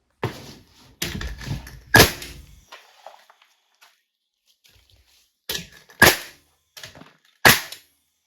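A nail gun drives fasteners down into a basement floor to secure a rebuilt wall, six sharp, loud cracks in two clusters of three, each with a short metallic ring, separated by near silence.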